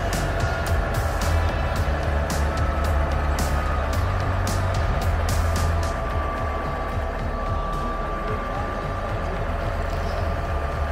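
A W50 truck rolls slowly onto four beer glasses at a fire-brigade museum show, its diesel engine rumbling steadily and fairly close, with clicks and clatter over the first half and the idle continuing afterward.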